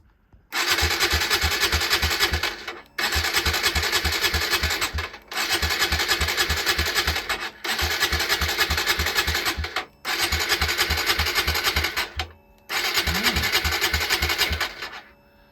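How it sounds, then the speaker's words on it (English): A Suzuki GSX-S125 motorcycle engine revs hard at wide open throttle in six loud, sustained bursts, each cut by a brief gap, with a steady buzzing exhaust note close by. "Wide open throttle."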